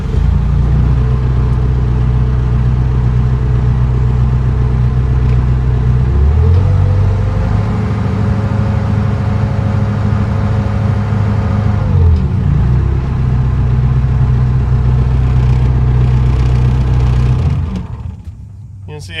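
Diesel engine of a Bobcat 963 skid steer loader idling steadily, then revving up for several seconds before settling back to a low rumbling idle, loud and close, with faint talk over it before it shuts off at the end.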